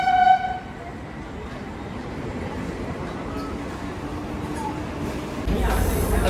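A Mumbai local fast train bound for Churchgate rumbles steadily inside a second-class compartment, with a brief horn-like tone at the start and rising wheel noise near the end.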